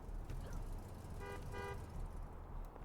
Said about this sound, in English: Yeah, honk honk to you too.